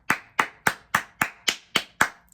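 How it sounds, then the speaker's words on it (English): Eight sharp hand claps in a steady, even rhythm, each crisp and close, done as a way to clear energy from a space. "You clap, just clap it out."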